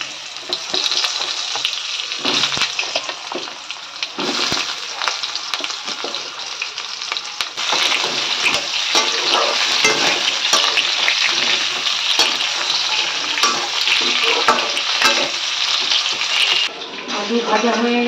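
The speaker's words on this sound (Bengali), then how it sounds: "এবার দিয়ে দেবো আলু" Potato pieces frying in hot oil with white cumin seeds and two bay leaves, a loud continuous sizzle with bursts of stirring and scraping in the pan that swell and dip through the cooking.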